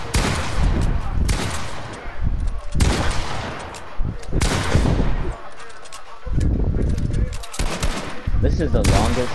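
Video game gunfire in a two-versus-one wager match: loud, dense bursts of automatic shots and single reports in several long volleys with short gaps, up close and dominating, with a voice talking faintly underneath.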